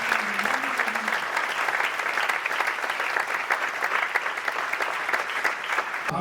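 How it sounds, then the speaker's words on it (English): A seated audience at a literature festival discussion applauds warmly, producing a steady, dense clatter of many hands that holds at an even level for about six seconds. "let's give a warm round of applause"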